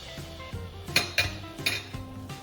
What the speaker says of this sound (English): Gently slide a spatula under the pancake and flip it.